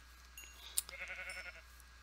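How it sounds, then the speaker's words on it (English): A Minecraft sheep bleats once, a short wavering baa, faint over quiet game ambience, with a light click just before. "Alright, so we've got sheep here."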